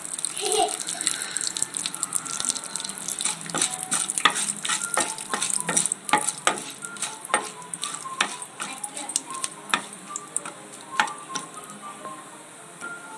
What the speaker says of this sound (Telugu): పప్పులన్నీ కాసేపు వేగిన తర్వాత ఒక మూడు ఎండుమిర్చి వేసి వేపుకోవాలి